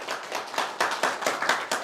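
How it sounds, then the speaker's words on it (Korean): A church congregation claps in a steady rhythm, about eight firm, evenly spaced beats from many hands at once, close and fairly loud. "박수요."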